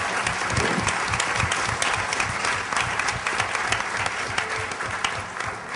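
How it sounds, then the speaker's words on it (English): Sustained, energetic audience applause fills a large conference session hall, a dense wash of many hands clapping with occasional louder claps, continuing steadily for several seconds with no speech over it. "Now give me a big round of applause."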